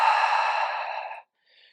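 A single long, steady exhale through the mouth during a Pilates arms-and-core exercise with weights, close and clear, lasting about a second before cutting off into quiet.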